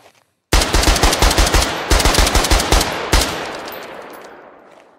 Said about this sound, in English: Next up is your machine gunner, which just looks to be like an FN mag